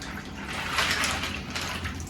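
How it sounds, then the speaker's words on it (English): Water running steadily into a pasta dish for a tuna pasta bake, a continuous broadband splashing and pouring that fills the short stretch at moderate level. "Fill that up with water."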